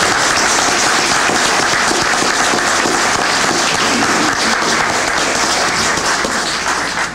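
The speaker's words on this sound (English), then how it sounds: "So give these people a round of applause." Sustained applause from a large audience at a township meeting, loud and steady throughout, thinning slightly toward the end.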